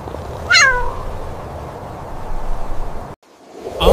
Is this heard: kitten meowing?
yes